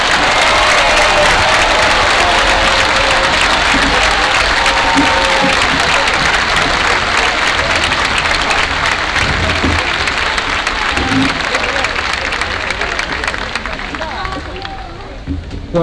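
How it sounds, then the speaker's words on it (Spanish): Loud, sustained crowd applause at a political rally in Mar del Plata, dense clapping with cheering voices that carries on for about fifteen seconds before gradually thinning out. "Fuerte el aplauso, es un orgullo tenerlo otra vez en Mar del Plata."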